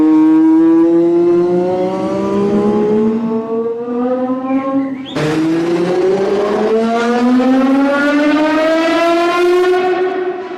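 Lexus LFA with a 4.8-litre V10, loud and close as it climbs through a long rising rev sweep, drops briefly on a shift, then screams upward again in a clean high-pitched wail.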